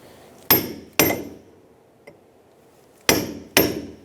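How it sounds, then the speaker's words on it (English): Four sharp metallic hammer blows on a cold chisel peen a rear wheel hub nut on a 2002-2006 Honda CR-V, struck in two pairs with a pause between them, each ringing briefly and clearly up close. "now we got to peen it over, meaning we're just going to put a dent in it so it locks it into the stud"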